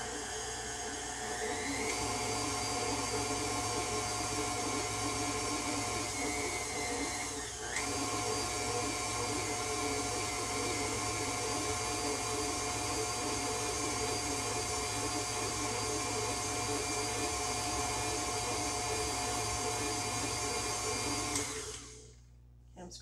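An electric mixer beating coconut cake batter runs at higher speed in a continuous loud whir. Its pitch shifts slightly as the beaters work, then it winds down near the end.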